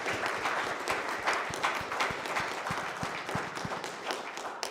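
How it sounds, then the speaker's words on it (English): Church congregation applauding after a talk during a spiritual service, steady mid-level clapping from a seated audience with a few sharper claps standing out, continuing for several seconds without speech. "Let's give her a round of applause."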